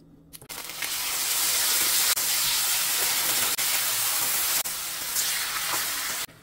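Chicken thighs, marinated Filipino-style, sear in a small amount of hot oil in a pan, giving a loud, steady sizzle and hiss that runs unbroken for several seconds after a brief quieter start.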